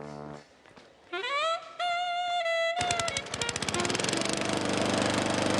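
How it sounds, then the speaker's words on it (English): Cartoon lawn mower in a hardware store, a tonal whine rising into a loud, close, rapidly pulsing engine rattle that runs steadily to the end. "Lawnmowers!"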